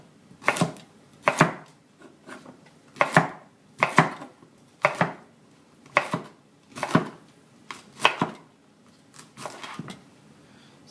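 A knife chops through broccoli stems on a cutting board: about a dozen sharp, distinct thwacks in a steady rhythm, close and fairly loud, with no talking.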